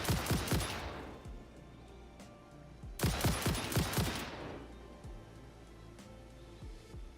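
Gunfire in the video game Satisfactory comes as two bursts of rapid shots with a long ringing decay, the second around the middle, then a few faint scattered shots.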